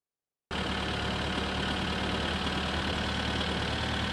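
A tractor engine runs in the video game My Summer Car, starting abruptly after a brief silence and then holding a loud, steady, rough rumble with no talking.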